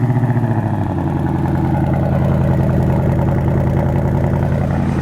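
Ford Shelby S650 Mustang Premium GT with active exhaust, its engine running steadily with a deep, loud rumble and a throbbing idle-like pulse that starts slightly choppy before settling into an even drone.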